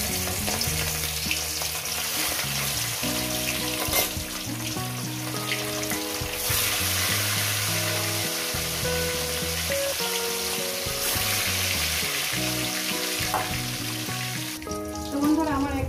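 Pieces of catla fish frying in hot oil give a loud, continuous crackling sizzle up close, with faint clinks of utensils and a louder burst of spitting near the end.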